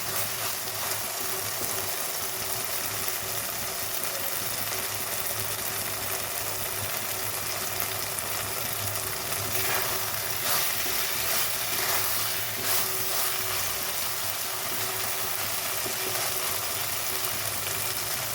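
Taro stems (kochur loti) fry in a pan on a gas stove, a steady, dense sizzle of moisture cooking off that holds evenly throughout with a low hum underneath and no voices.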